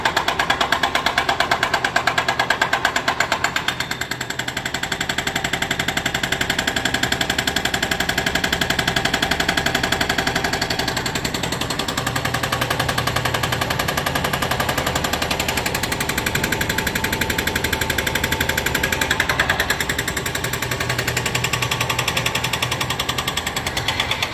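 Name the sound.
jackhammer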